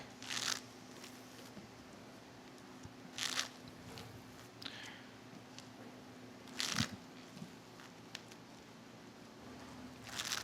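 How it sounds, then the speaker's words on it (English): Players at the 2018 Magic: The Gathering World Championship semifinals shuffling their card decks, three or four brisk riffle bursts separated by quiet pauses, close and fairly soft. "Players just getting shuffled up here for game number 3."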